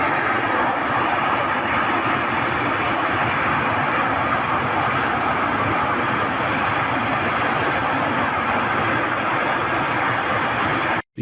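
A Ukrainian attack drone's engine droning over the Shatura power plant, a loud, continuous buzzing roar that holds steady for the whole stretch before cutting off abruptly at the end.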